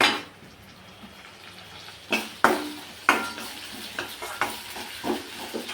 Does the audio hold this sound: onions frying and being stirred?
yes